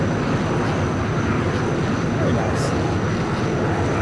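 A Sepecat Jaguar jet taking off in Flight Simulator X, its engine giving a steady, loud broadband roar that holds constant throughout, with someone talking over it.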